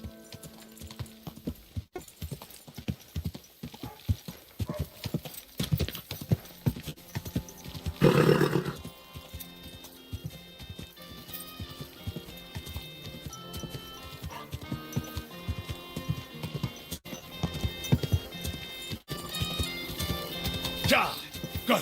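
Horse hooves clopping in Kingdom Come: Deliverance II over a busy, layered game soundscape with music and effects, a louder burst partway through, continuing throughout.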